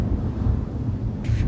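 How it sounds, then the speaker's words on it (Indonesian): A low, rumbling roll of thunder, loud and boomy with a deep, continuous growl, partly buffeted by wind noise and ending with a brief brighter swell. "bunyi geledek."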